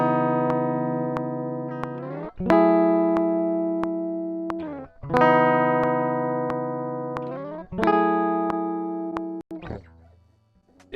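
A simple guitar chord recorded for a loop in Logic Pro X is struck four times, each ringing strum decaying steadily before the next, with effects colouring the tone.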